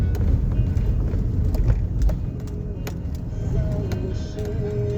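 A car driving slowly along a narrow street on the way to the shop: continuous low engine and road rumble with occasional light clicks and rattles, heard from inside the vehicle.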